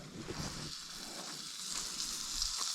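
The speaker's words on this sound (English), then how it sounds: "Look at that frying up." Chorizo frying in a pan, a soft continuous sizzle and crackle at low level, with a few faint clinks or stirring touches near the start.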